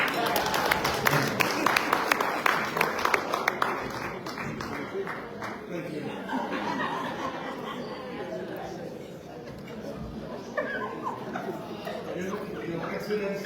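Banquet-hall applause from a reunion crowd at a high school awards ceremony, strong and continuous for the first few seconds and then thinning into scattered claps under murmuring voices and a speaker talking.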